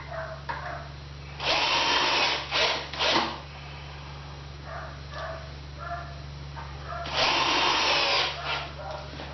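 A power drill drives 2-inch countersunk screws into wood, whirring in two loud bursts with shorter spurts between, close up and without talk.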